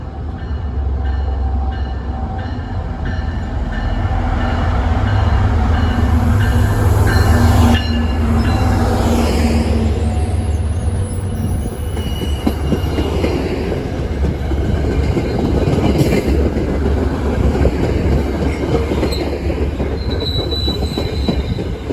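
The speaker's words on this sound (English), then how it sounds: "Then came a Franklin-Foxborough line outbound train." An outbound Franklin-Foxborough line commuter train passes loudly and close, a heavy continuous rumble with rhythmic wheel clatter and high metallic squeal building through the pass.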